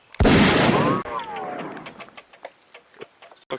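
A firearm fired once on command, a loud sharp blast that ends abruptly, followed by a faint tonal ring and scattered small clicks and pops as things settle.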